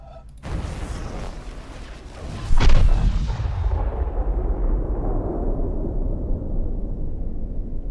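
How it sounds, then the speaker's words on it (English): A deep booming blast in the puzzle game The Witness, starting with a sharp burst and followed by a long rolling low rumble that fades slowly with no talk over it. "Why did it sound like something exploding now?"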